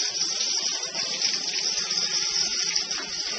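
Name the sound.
hot water filling a mixer bowl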